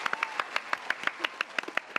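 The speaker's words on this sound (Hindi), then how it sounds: "तालियां तालियां तालियां।" A small group on the set of a Hindi TV comedy claps. The claps come in a quick, steady rhythm, sharp and fairly close, about a dozen in two seconds.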